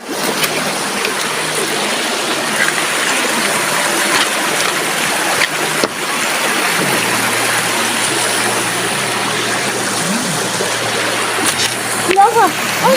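Steady splashing and rushing water while bathing in a cool river fills the whole stretch at close range, loud and broadband, with a voice speaking faintly underneath.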